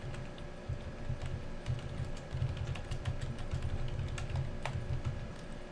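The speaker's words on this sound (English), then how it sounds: "I'm typing it all up for you here if you want to copy paste it" Steady computer keyboard typing, quick irregular clacks of keys over a low hum, close and continuous without speech.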